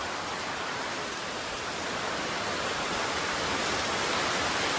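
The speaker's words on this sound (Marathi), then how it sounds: "मेचा महिना चालू आहे तरी सुद्धा आपल्याकडे आता एवढा जोरात पाऊस येतोय" Heavy rain pouring down during a May storm in the Konkan countryside, a dense, steady hiss of downpour with no breaks, fairly soft and even throughout, no voices.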